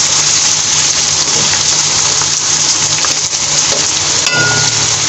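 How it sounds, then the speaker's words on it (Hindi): About three medium sliced onions frying lightly in a pan, a loud continuous hiss and sizzle close by, with a brief clink or stir near the end and no talking. "ये हमने तकरीबन 3 मीडियम प्याज लेके उसको स्लाइस में कट कर लिया, ये हमने डाल दी। अब हम इसको हल्का सा फ्राई करेंगे।"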